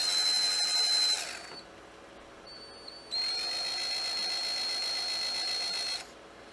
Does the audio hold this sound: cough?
no